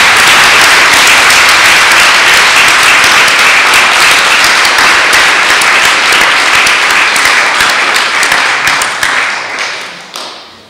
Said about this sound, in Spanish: Quiero aplaudir a los de Israel.